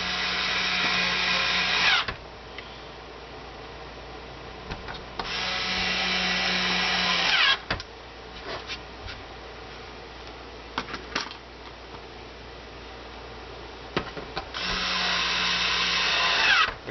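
Screws driven into an Xbox 360 chassis to secure the motherboard, three bursts of close, whirring power-driver buzz lasting about two seconds each, separated by quieter handling clicks and taps.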